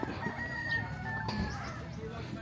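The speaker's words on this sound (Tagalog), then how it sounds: "Ang manok sa Senior Pedro." A rooster belonging to a neighbour crows at a middle distance in a Cagayan de Oro yard, a drawn-out call under light background noise with faint voices nearby.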